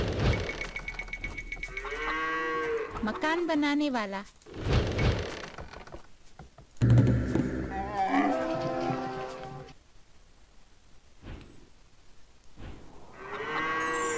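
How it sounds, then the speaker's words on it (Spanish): Camels in Age of Empires II give deep groaning, lowing calls, several overlapping at moderate loudness, mixed with game thunks and clicks while someone talks over them. "Cómo mola, tío, el ruido que hacen ahí todos los camellos ahí."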